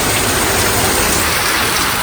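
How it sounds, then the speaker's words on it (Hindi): Heavy rain pours down steadily on a ride home from a farm, a loud, dense, continuous hiss with no break and no talking. "भाई साहब क्या बारिश"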